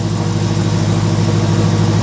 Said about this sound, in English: You can hear the exhaust through the tubing.